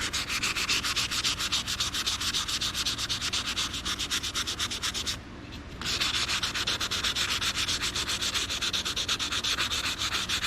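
Aluminum trim is sanded against the grain with rapid, even back-and-forth rubbing strokes, close and continuous, with a brief pause near the middle.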